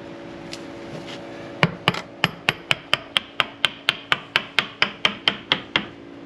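A hammer taps a part into place inside an old cattle barn, giving about sixteen crisp, steady knocks in quick succession. They sound close and clear over a low background hum.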